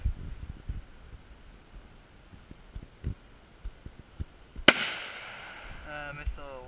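A single sharp gunshot cracks at a shooting range as a bottle is targeted, loud and close with a ringing tail, set among low rustling, handling noise and scattered voices.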